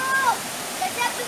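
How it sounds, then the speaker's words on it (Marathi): Mountain spring water pours steadily down a forest stream, a broad hissing rush heard close by while people talk and whistle-like calls cut through now and then. "हा झरा आहे"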